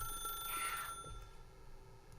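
A telephone rings in The Stanley Parable video game, one brief bright ring burst standing out over a quiet low room hum, with no talk.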